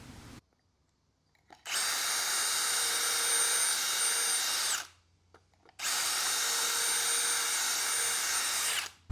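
A power drill bores pocket holes in treated lumber using a jig, with two loud, sustained high-pitched whirring bursts of about three seconds each, separated by a short pause and quieter clicks.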